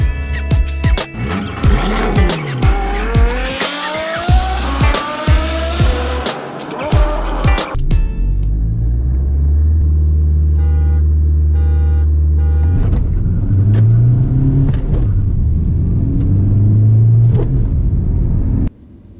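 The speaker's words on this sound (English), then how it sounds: "We are about to have a drag race and see which one is faster." A Ford Aspire and a Tata Nexon launch in a drag race, heard from inside the Aspire: a loud engine climbs through rising revs and gear changes, then drops to a steadier interior drone with muffled rumbling.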